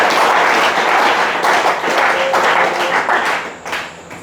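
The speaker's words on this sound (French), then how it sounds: "Est-ce qu'on peut acclamer le Seigneur?" A church congregation in Kribi bursts into sustained applause and cheering, a dense, loud wash of many hands clapping with voices mixed in, fading slightly near the end.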